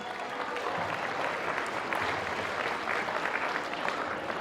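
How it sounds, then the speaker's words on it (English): Audience applause at a community annual ball in Melbourne, a sustained round of clapping from a large room full of guests, steady and moderately loud for several seconds with no speech over it. "Congratulations all. A round of applause."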